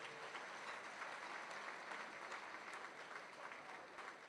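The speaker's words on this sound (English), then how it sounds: "Let's all give them a hand clap as well." Audience at a business luncheon applauding its sponsors, steady dense hand clapping from a crowd filling the room without a break, fairly distant and even in level throughout.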